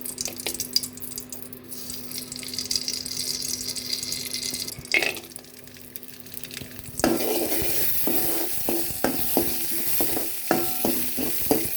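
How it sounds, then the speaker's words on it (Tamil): Cashews and raisins fry in a tablespoon of ghee in a pan while being stirred for payasam, a steady close sizzle with scraping spoon taps that grows brighter and busier in the second half, no voices. "ஒரு டேபிள் ஸ்பூன் அளவுக்கு நெய் ஆட் பண்ணி நம்ம எடுத்து வச்சுருக்கிற கிஸ்மிஸ் முந்திரியை வந்து வறுத்து எடுத்துக்கலாங்க"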